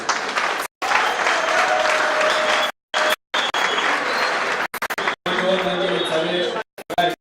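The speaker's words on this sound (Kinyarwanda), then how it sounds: "ndabanza basabe muyikomera amashyi by'umwihariko" A crowd claps steadily at a choir award ceremony, loud and sustained, with a few abrupt breaks and a faint murmur of voices underneath.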